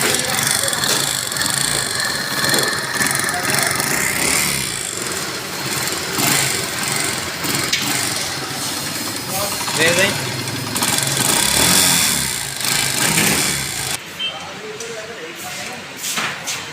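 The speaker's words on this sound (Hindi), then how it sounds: "इसका पिस्टन आवाज़ कर रहा है" A Honda CD70 motorcycle engine, a Chinese-built bike with a worn piston, idles with a steady rough mechanical chatter close by for about fourteen seconds. Then it drops away to quieter background noise.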